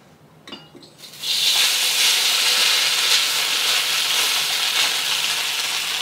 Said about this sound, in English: We're just gonna fry up our noodles a little bit.